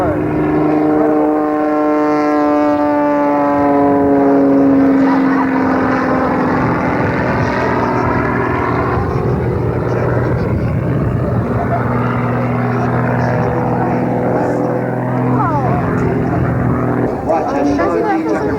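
Sean D. Tucker's aerobatic airplane at a 1994 Rhode Island Air National Guard air show, its engine droning loud and continuous with shifting pitch as the plane hangs and turns, under a commentator's steady narration.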